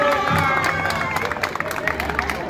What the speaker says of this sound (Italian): facciamo un applauso a Chiara.